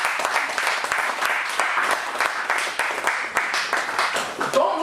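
A church congregation claps loudly and continuously in praise, dense rhythmic applause filling the room with voices mixed in beneath it.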